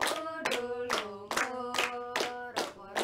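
A classroom group claps in unison during a microteaching history lesson, giving about six sharp, evenly spaced bursts with chanting voices underneath.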